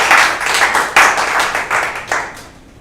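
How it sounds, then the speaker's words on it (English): Enthusiastic audience clapping at a live improv comedy show, loud and close, swelling in a few waves before fading out at the end. "that's worth a round of applause"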